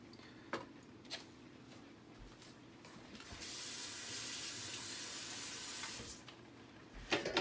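Tap water runs into a kitchen sink while a spoon is rinsed, a steady close hiss of flowing water lasting a few seconds between brief clinks and handling noises, with no talking.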